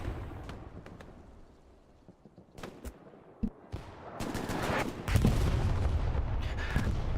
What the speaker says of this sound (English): It could also be Axis Arty that's landing as well.